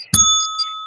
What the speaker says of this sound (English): I mic'd your bell, Mike.